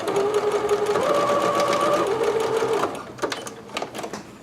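A sewing machine runs close by at a steady whir, its motor pitch shifting as it reverses to back stitch a seam, then stops with a few mechanical clicks and clunks.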